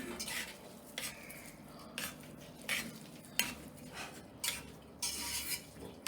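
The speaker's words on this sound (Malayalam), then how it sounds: "കുറച്ച് വേപ്പിലയും 1/2 ടീസ്പൂൺ മഞ്ഞൾപ്പൊടിയും 1/2 ടീസ്പൂൺ കുത്തുമുളകും കൂടി ഇട്ടിട്ട് ഞാനൊന്ന് ചിക്കിയെടുത്തേക്കാണ് ഇതെല്ലാം." Curry leaves, turmeric powder and crushed chilli being stir-fried in a pan, a quiet sizzle under repeated scraping and clinking strokes of a spoon against the metal.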